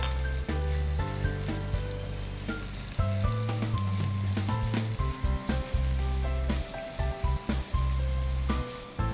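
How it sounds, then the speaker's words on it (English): Green chilies cut into small rounds slide into hot oil and sizzle steadily, a loud, close crackle like rain that continues throughout, with no one talking over it. "So once the oil becomes hot, mm-hmm. we'll slide in the chilies"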